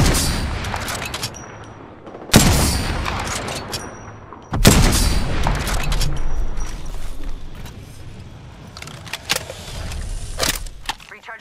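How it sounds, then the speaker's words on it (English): Gunfire in the Apex Legends video game, with several sharp, loud sniper-style shots and echoing booms spaced a few seconds apart over a rumbling background. "Someone out there. Getting shot at."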